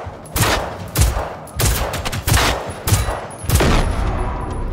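Rapid bursts of gunfire from the video game Generation Zero ring out in several loud volleys while shooting at a robot, near and sharp, with no talk over them.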